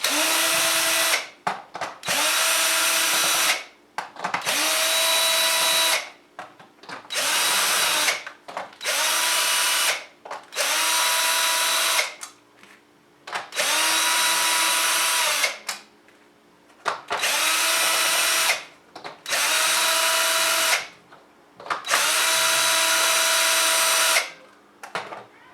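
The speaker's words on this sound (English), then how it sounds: "Now I'm going to go ahead and just start unscrewing." Power drill unscrewing the stock screws of a Magstrike Longrifle toy blaster, a loud whining motor in about ten repeated bursts of one to three seconds each, separated by short quiet pauses.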